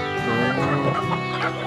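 Chickens on a farm cluck and chatter steadily during feeding. The dense flock is close and fairly loud, and a brief crowing note rises within the mix.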